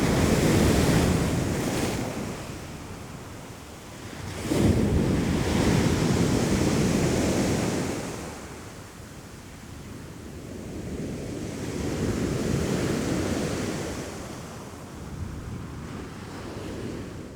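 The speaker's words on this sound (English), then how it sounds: "The big swell caused waves to break dramatically against the icebergs" Heavy ocean swell surges and breaks against Antarctic icebergs off Victoria Land, with big waves rising and falling in long roaring swells. Strong wind buffets the microphone throughout, with no voices.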